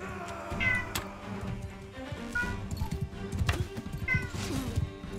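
Cat meowing in Mount and Blade 2, a few short mewing calls heard over busy battle game noise and background sound.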